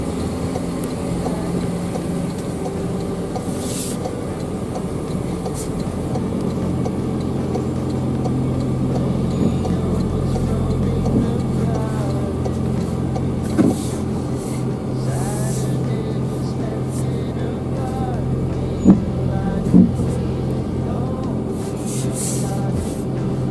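A car drives along with a steady, moderate engine and road rumble heard from inside, carrying on evenly throughout with a few faint clicks and knocks.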